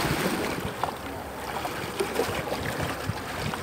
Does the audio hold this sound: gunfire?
no